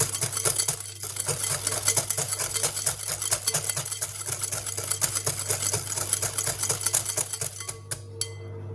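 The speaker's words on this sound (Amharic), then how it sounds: "በደንብ አድርጌ አንድ ላይ አዋህዳቸዋለሁ" Steady rhythmic scraping and clinking of a utensil stirring butter and other biscuit ingredients together in a bowl, continuous and close, with a low hum underneath.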